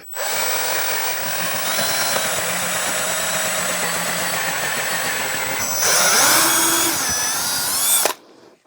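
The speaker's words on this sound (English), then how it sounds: "for my screw size, I have a 5/16 drill bit and marked where I want it to stop" A power drill with a 5/16 bit whines steadily at close range boring into wood, its pitch shifting as the bit bites in, then cuts off abruptly near the end.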